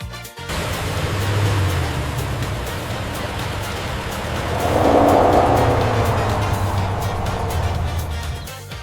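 A minivan drives along steadily, its broad road and engine noise constant throughout and swelling slightly around the middle as it comes nearer, with no one speaking.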